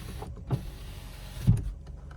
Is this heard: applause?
no